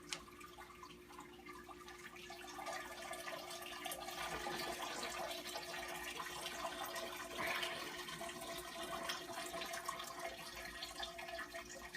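Five quarts of water pouring and trickling through a bag of homebrewing grains in a brew-in-a-bag setup, a steady, quiet splashing flow that rises slightly and continues throughout.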